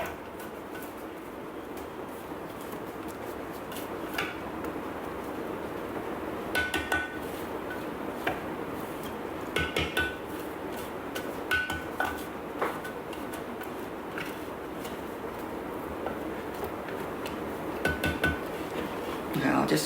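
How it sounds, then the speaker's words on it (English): A spatula scraping and knocking around a Thermomix bowl while making mango chutney, with scattered clinks and taps against the bowl over a low background hum. "I'll just scrape it down"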